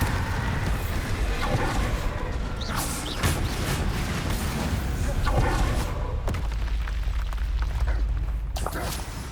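Bombarda spell explosions in the Hogwarts Legacy video game: a few heavy blasts and rumbling booms, with a sharp burst about three seconds in and another past five, over dense, continuous game noise.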